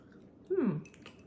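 One short, close squishy chew of soft freeze-dried berries that have absorbed moisture, a brief moist bite alone in a quiet room.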